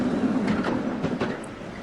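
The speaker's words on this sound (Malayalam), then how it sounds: "ആ ട്രെയിൻ യാത്രയായി." A train rolls out from a station platform, its carriages rumbling with a couple of rhythmic clacks before the sound eases slightly toward the end.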